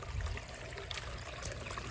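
Water splashes and trickles steadily as it is poured out, a close, continuous gurgling stream with no talking.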